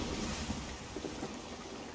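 Sailing ship gliding over open sea in the game Sea of Thieves: soft, steady wash of waves and wind noise, faint and continuous with no distinct events.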